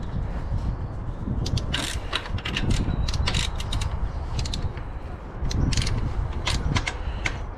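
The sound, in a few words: ratchet backing down idler pulley tensioner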